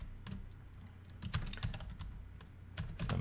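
Quick, light clicking of fingers typing C# code on a computer keyboard, a close run of irregular keystrokes with short pauses and no talking.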